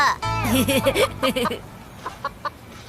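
A rooster clucks in a run of bubbly, pitched calls, fairly close, then a few shorter clucks trail off more quietly.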